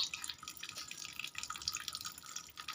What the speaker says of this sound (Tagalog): Nung binuksan kong gripo tapos inaiwan ko ba?